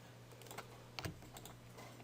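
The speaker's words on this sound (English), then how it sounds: "I just pressed the Alt key on my keyboard" A few keys are pressed on a computer keyboard, with soft, sparse clicks and one slightly firmer tap, close up in a quiet room over a low hum.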